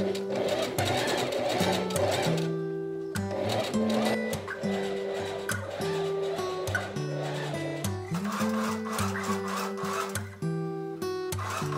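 A domestic sewing machine stitching fabric for a puffy dress, running in repeated bursts of whirring with short pauses between runs, close and fairly quiet, with no talk.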